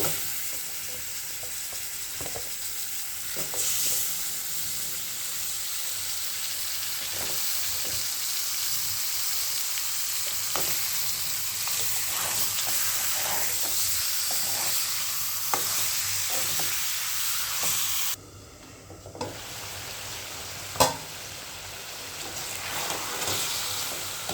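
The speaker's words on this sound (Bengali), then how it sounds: "আমি মাছ ধুয়ে রাখছিলাম, মাছগুলা দিয়ে দিব।" Fish pieces fried in a spice masala in a pan, a steady loud sizzle running throughout with stirring clinks and scrapes, briefly dipping near the end before the frying resumes.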